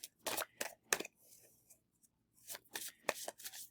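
Tarot cards riffled and shuffled in several quick bursts, followed by a card being slid out, close and fairly quiet with pauses between bursts.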